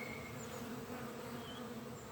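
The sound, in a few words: honeybees buzzing at a hive entrance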